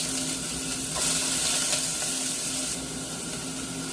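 Chopped onions fry in a pan with a steady loud sizzle and crackle, swelling briefly in the middle as they are stirred, with no talk over it.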